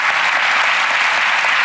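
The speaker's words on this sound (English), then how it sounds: "A round of applause for Mr. Ross." Steady, loud audience applause at a televised magic show, an unbroken wash of clapping from a large studio crowd with no voices standing out.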